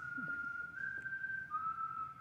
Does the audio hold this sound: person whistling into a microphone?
yes